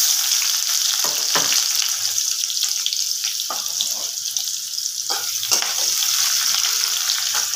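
Cashews and onion fry in a pan for egg chicken fried rice, giving a steady close sizzle broken by occasional stirring scrapes and clatter.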